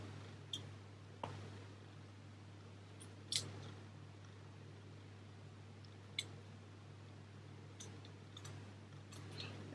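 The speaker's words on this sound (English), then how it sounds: "And then we can cut some lace off" Scissors snip lace off a curly wig in a quiet room: soft, sparse clicks and crisp cuts at close range, irregularly spaced over a low steady hum, with no talking.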